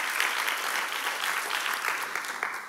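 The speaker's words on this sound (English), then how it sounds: "Thank you, and a big applause." A lecture audience in Singapore breaks into dense, even applause that fills the hall without a break.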